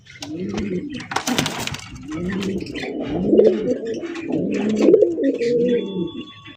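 A pair of old-breed Golla pigeons coo repeatedly and throatily at close range in a rising and falling rhythm, with a short sharp rustle or clatter near the start.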